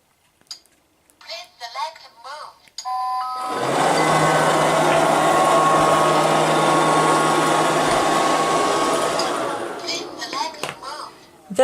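A Liectroux B3000 robot vacuum cleaner runs on laminate, picking up pet fur, hair, dust, crumbs, rabbit pellets, grass and hay: a steady loud motor whine with a rattly hiss for about eight seconds, with brief speech before and after.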